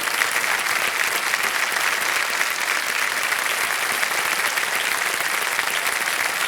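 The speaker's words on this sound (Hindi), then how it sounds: "और ताली बज जाए इनके लिए" A studio audience on the KBC Season 14 quiz set applauds a contestant after she wins a cheque, with steady, dense clapping at an even level throughout and no speech over it.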